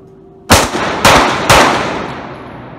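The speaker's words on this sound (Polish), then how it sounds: "I trzy szybkie strzały." Three rapid, loud gunshots ring out at an outdoor shooting range, each a sharp crack about half a second apart with a decaying echo after the last.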